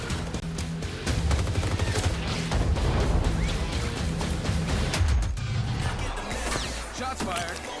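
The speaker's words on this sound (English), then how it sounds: "Shots fired." Rapid gunfire bursts from Call of Duty Modern Warfare, dense and loud, layered with game music and effects throughout.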